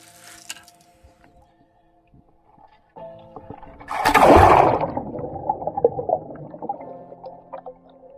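Water splashes and churns offshore as a lone sailor swims beside a hove-to sailboat in calm, windless open sea, a loud burst of splashing rising at about four seconds and then trailing into softer sloshing, with quiet creaks beforehand.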